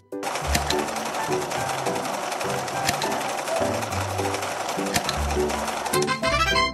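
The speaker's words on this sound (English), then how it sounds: "Let's sew the underskirt." A sewing machine in a dress-up video game runs in short mechanical bursts while sewing an underskirt, with chattering stitches over a light music bed.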